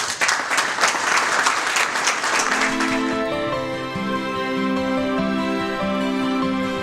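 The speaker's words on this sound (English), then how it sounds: "I'm really giving the military folks a round of applause" An audience at a logistics company's grand opening claps for military veterans, a dense burst of applause that thins out after a few seconds while a low tonal hum carries on underneath.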